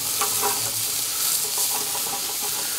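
Kafta patties fry in a hot pan, cooked on several sides, giving a steady close sizzle with occasional stirring and scraping sounds and no talking.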